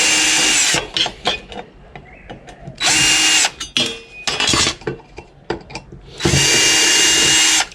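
A cordless power drill whirs in repeated loud bursts, backing steel screws out of a scrap TV casing, with clinks and rattles of loose screws and metal between the runs, close up and with no talking.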